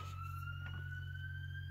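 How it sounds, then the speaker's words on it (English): A siren heard from outside, a faint steady wailing tone held across the whole stretch over a constant low hum, distant and muffled. "Sorry about that, like literally a siren."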